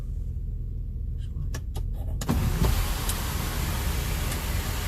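Ford Raptor sunroof opening inside the cabin, a few faint clicks followed by a broad mechanical whoosh and rush of air that rises and holds over a steady engine idle rumble.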